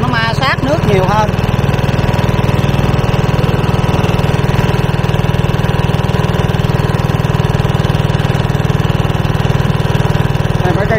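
A small motorboat engine runs steadily on a river, a loud, continuous mid-pitched drone close by, with a brief rising whine near the start.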